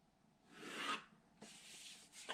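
Soft, close scratchy strokes of a pencil dragging across 18 by 24 inch paper, one longer stroke followed by another steady vertical line, with no voices.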